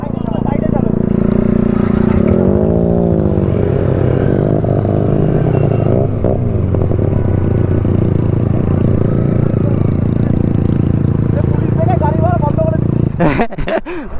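A motorcycle runs at full throttle near its top speed of about 137 km/h, giving a loud, sustained engine drone with rising and falling pitch under strong wind noise, while a rider talks over it.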